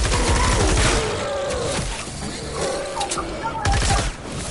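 Loud, sustained rapid gunfire from a weapon in the video game Snorkel Ops, dense bursts of shots filling the whole stretch, with a player's voice talking over it.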